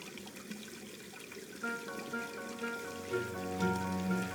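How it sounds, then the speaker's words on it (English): Boiling hot water in the video game Black Mirror 2: a soft, steady bubbling trickle, fairly faint, joined midway by sustained tonal background music. "The water is boiling hot."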